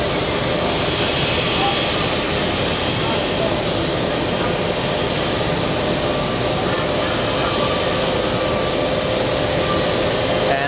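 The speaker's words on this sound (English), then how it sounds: "We have Cathay Pacific 840 flying in from Hong Kong." A Cathay Pacific Airbus A350-900 arriving at JFK after a long flight from Hong Kong gives off a steady, loud broadband roar that holds throughout, with a faint whine above it.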